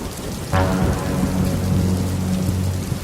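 Heavy rain in a Hindi children's cartoon pours steadily and loudly, a dense continuous roar beginning abruptly and holding without pause.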